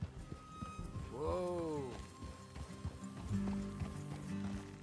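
Horses in the Red Dead Redemption 2 game, with hooves clip-clopping and a clear whinny partway through, plus creaks and other game sounds around them.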